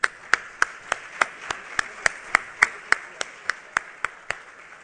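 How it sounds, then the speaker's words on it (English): A small group of people at a brownfields conference panel session applauds, the claps falling in a sparse, evenly spaced rhythm of distinct sharp hand-claps, close and clear against a quiet room. "Let's give another round of applause."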